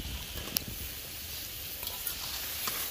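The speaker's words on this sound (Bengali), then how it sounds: "এখানে মশলা কষানো হয়ে গেলে দিয়ে দিয়েছে শিদল শুটকি বাটা" Shidol shutki, a ground dried fish paste, fries with spices in a pan, giving a steady close sizzle with a few sharp crackles and pops, no speech.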